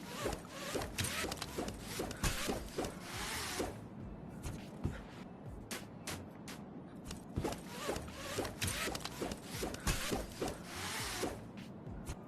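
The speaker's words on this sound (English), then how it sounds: "Now, I'll show you guys what it looks like if you do it around that whole zip line." Zipline ride in the VR game Yeeps, a steady run of rapid, scratchy zipping and clicking rattles that continues for about twelve seconds, close and fairly quiet, with no talking.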